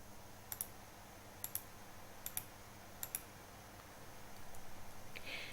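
Faint, light clicks of calculator keys being pressed to enter numbers into a list, arriving in four paired taps spaced about a second apart over a quiet room hum, followed by a soft electronic warble.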